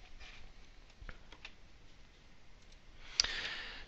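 A computer mouse clicks a couple of times to run a report, with small sharp ticks in a quiet room and a brief brighter click near the end.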